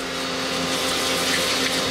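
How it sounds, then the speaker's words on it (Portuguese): Water sprayed steadily inside the interior of a 1979 Opala car, a continuous broadband hiss with a faint hum beneath, close and unbroken, with no talk. "Vamos começar a bater água aqui dentro."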